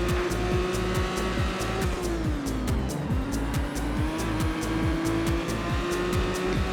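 Race cars in the PS2 game Total Immersion Racing roar steadily at high revs, with repeated gear shifts, a dip and rise in engine pitch around a corner, and tire noise, loud and close.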